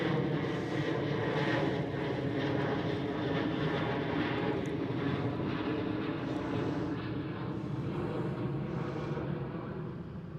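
A Ryanair airliner passes at Schiphol Amsterdam, its jet engines a broad, steady roar that holds loud and continuous before slowly beginning to fade toward the end.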